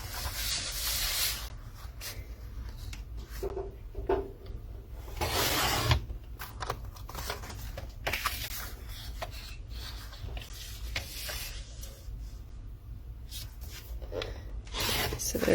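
Cardstock trimmed to A2 size on a paper trimmer, a soft continuous rasping slide of the blade with a few sharper scrapes, close and steady.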